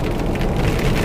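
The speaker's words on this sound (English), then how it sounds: "I expect to get into heavier rain pretty soon here." Steady rain drums on a truck in a dense, even hiss, loud and close and unbroken, with no voices over it.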